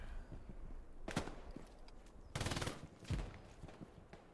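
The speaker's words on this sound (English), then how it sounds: "Frayden up top of the MG, shooting across." Machine gun fire during a competitive first-person shooter match, heard as a few short distant bursts of rapid shots spaced apart, fairly faint against a quiet background.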